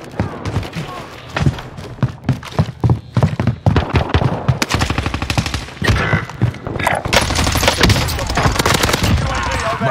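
Bursts of automatic gunfire in a Warzone Resurgence match on an island map, rapid close shots in irregular clusters, with speech mixed in under the shooting.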